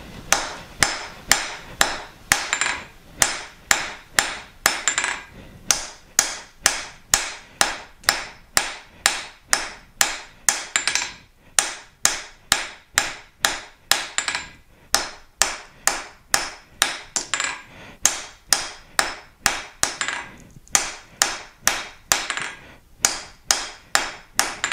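Hammer forging the corners off a top rivet header, steady rhythmic metallic blows roughly once a second for the full stretch, loud and close with ringing strikes and short pauses, no talking.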